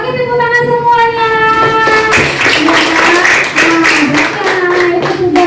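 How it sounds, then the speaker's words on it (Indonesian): A school class claps together in a dense, sustained round of applause at close range, building in intensity after the first couple of seconds. "Oke, tepuk tangan semuanya."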